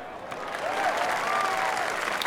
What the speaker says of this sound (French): Ils ont bien beau applaudir là.